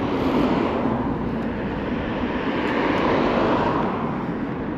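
A drone flies overhead above the Warner Bros studio lot, giving a steady, loud, unbroken whirring hum throughout with no talking.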